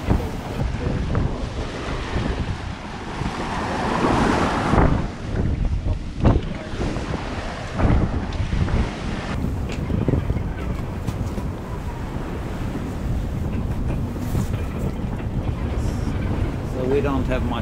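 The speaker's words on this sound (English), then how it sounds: "It is probably 20 to 25 knots of wind, and we take it quite easy." Strong 20 to 25 knot wind roars across a sailboat at sea on a bumpy passage toward Greenland, buffeting the microphone with loud gusts over rushing water and hull noise, while a voice talks through it.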